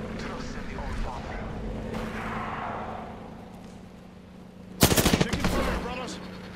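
Apex Legends gunfire: a sharp, loud burst of rapid automatic shots cuts in near the end, after quieter background game sounds and a voice speaking.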